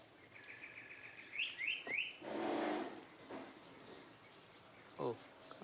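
Small birds chirping at a nest at home, a few quick rising tweets close by followed by scattered faint calls amid soft background noise.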